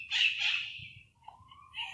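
Birds call outdoors: a fairly loud burst of squawking comes first, then fainter, thinner calls trail off in the distance over a low background hum.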